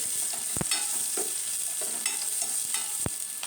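Onion fries in oil with a constant crackling sizzle, while a spoon knocks and scrapes against the pan a few times as it is stirred.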